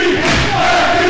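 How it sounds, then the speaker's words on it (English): A crowd in a high school varsity basketball gym chants in unison, a loud rhythmic collective shout carrying over the arena noise. "As you can hear the crowd chanting MVP"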